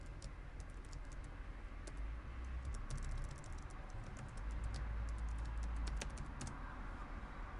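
A password being typed on a computer keyboard, a run of quick irregular key taps, faint and close against a steady background hum, with no talk.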